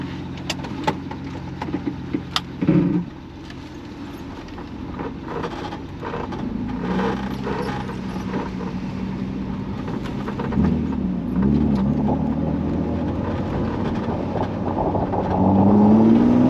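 A BMW E36 built from scratch is driven on the road on a short shakedown ride, its engine droning steadily from inside the car and rising in pitch and loudness as it accelerates toward the end.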